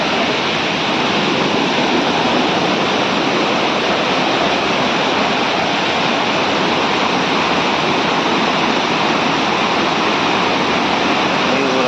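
Rushing water pours out at a spot where a pipe has burst, a loud, continuous, close roar like a waterfall that holds steady throughout with no talk.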